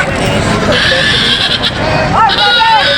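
Goats bleating amid the busy crowd noise of a goat market, a few wavering calls rising over steady chatter and background bustle, with people talking nearby.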